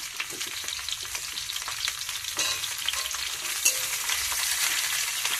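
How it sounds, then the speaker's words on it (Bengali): Potato pieces frying in hot oil seasoned with turmeric, a steady close sizzle with crackling bursts and occasional stirring, no voices. "এইভাবে আলুগুলো লাল লাল করে ভেজে নিলে"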